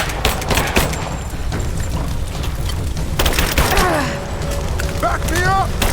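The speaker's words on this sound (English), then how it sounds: "Laying down covering fire!" Gunfire laid down as covering fire in the video game Rise of the Tomb Raider: loud bursts of shots with sharp impacts and mechanical clatter, mixed with game sound effects.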